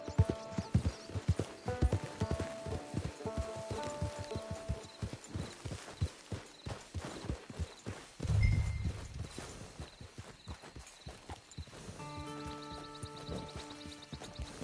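Horse hooves clip-clop in steady rhythm across open ground in the Red Dead Redemption 2 western video game, with a brief whinny partway through and a few soft musical tones in the background.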